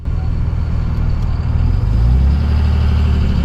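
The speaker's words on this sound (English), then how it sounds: "So it makes the idle a lot rougher, a lot clatterier." A 5.9 Cummins diesel pickup running a 12-valve-style tune idles with a rough, clattery rumble, heard steady and fairly loud from close by, its low throb thickening slightly partway through.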